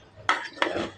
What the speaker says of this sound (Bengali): সবগুলো উপকরণ এখন মিশিয়ে নিব।